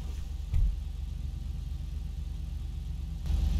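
Car engine idling in the video game GTA 5, a steady low rumble close by with two brief revs, one early and one at the end.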